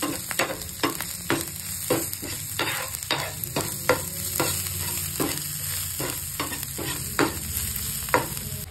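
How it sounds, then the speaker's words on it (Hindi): Capsicum sabji being stirred in a frying pan with turmeric, garam masala and coriander, a steady sizzle under repeated scraping strokes of the spoon, close and alone. "और थोड़ा सा गरम मसाला, थोड़ी सी धनिया भी, फिर से चला देते हैं इसको।"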